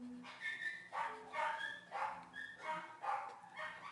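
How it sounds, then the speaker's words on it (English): A dog barks repeatedly in the background, with about six or seven sharp barks coming in an irregular rhythm, moderately loud, and no speech over them. "Another great addition to the Dr. Lloyd scribblecast is his dog in the background, as you can hear"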